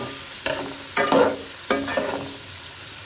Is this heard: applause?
no